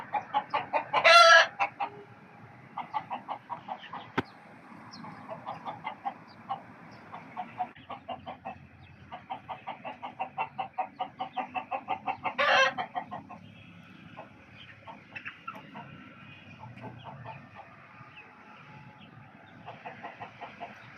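Native and tiger-breed chickens in a rooftop pen cluck in steady rhythmic bursts, with a couple of louder squawks or crow-like calls rising above the flock.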